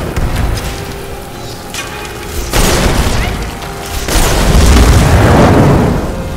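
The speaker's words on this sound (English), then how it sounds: "Giant wall of fire." A giant wall of fire spell erupts in Skyrim with a heavy roaring whoosh, a loud booming surge that swells and holds over a crackling, rain-like hiss, with a second bigger blast partway through.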